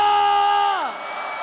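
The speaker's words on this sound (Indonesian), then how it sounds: "Jakarta International Velodrome. Mana tepuk tangannya?" An arena crowd cheers at an esports grand final inside Jakarta International Velodrome, with loud sustained yells and whoops that fall off near the end and leave a lower crowd roar.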